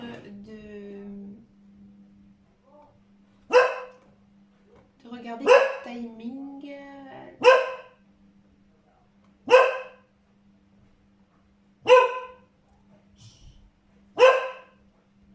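A dog barks in single sharp bursts, about six of them spaced a couple of seconds apart, with a person talking briefly near the start.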